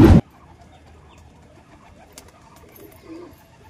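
Pigeons coo softly at a home loft as a young pigeon returns from its first flight, low murmuring calls following a brief loud burst at the start.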